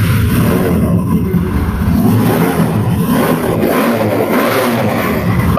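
A second-hand Apache RTR 160 2V motorcycle engine revs steadily and loudly up close, a dense continuous drone with no talking over it.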